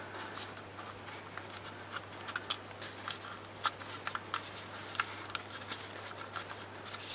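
Scissors cut decor paper to size for a toilet-paper-roll seed pot, with a steady run of close, crisp snips and paper rustles, no voices.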